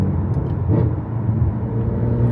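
A BMW F8X with valvetronic exhaust idles close by, a low, steady rumble with a brief swell partway through.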